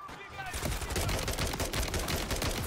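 Rapid automatic gunfire from the Modern Warfare 3 campaign rattles continuously after a brief quiet start, loud, dense and close.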